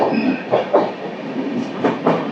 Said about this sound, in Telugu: ట్రైన్ అయితే ఒక ట్రైన్ అయితే వెళ్ళిపోతుంది